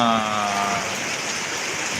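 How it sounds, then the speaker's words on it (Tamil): Widespread rain falling across many areas of Tiruvarur, a steady broadband hiss that stays fairly loud and even throughout, with faint tonal traces near the start. "பல பகுதிகளில் வந்து பரவலாக மழை பெஞ்சிக்கிட்டு இருக்குது"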